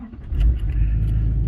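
A diesel tow truck engine fires up on a freezing morning after glow plugs cycle, catching with a brief surge and then settling into a steady low rumble close by.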